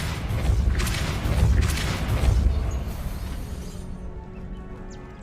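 A Depulso spell is cast in the video game Hogwarts Legacy, giving a loud booming blast with two swells of rumbling force that fade into quiet ambience.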